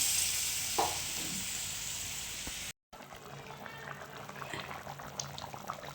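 Curry broth poured into a hot pan for a Ramadan sehri meal, giving a loud bubbling and sizzling hiss that fills the first seconds, then a softer, steady simmer after a brief dropout.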